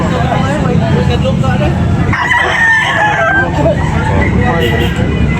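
Roosters crowing at a rooster sale in Tabunok, Talisay, with loud, close crows and clucking fowl mixed under a man's continuous selling patter in Cebuano.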